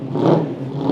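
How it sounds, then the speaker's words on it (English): A 1967 V8 car pulling away for a test drive, its engine giving a short, loud, rising rumble close by, with no voices. "Sorry about the noise, but that's a Bullet V8 67 going out for test drive"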